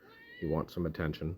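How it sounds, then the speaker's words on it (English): A pet cat meows four short times in quick succession, close by, while someone speaks over and between the calls. "That's my cat."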